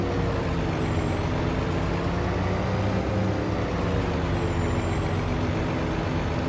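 A truck in Farming Simulator 25 on Lone Star Plains, a loud, steady engine rumble with a thin high whine gliding above it, continuous and close throughout.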